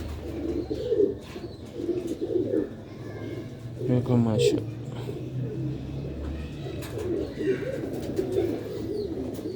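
Rooftop Sialkoti pigeons coo repeatedly in soft, rolling phrases at close range, with a voice speaking over them at moments.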